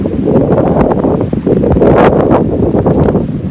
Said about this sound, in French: Pas mal de vent.